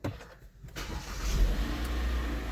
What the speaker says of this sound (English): Then start the engine.